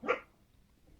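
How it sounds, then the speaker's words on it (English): A pet dog gives one short, fairly soft bark right at the start, followed by near-quiet room tone. "Woof, that's my dog woofs."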